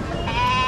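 A lamb bleats once at a sheep market, a single loud, close, wavering cry filling the short moment.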